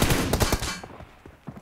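Rapid bursts of automatic gunfire from the PUBG Mobile video game, loud and dense for most of a second, then trailing off into a few fainter shots.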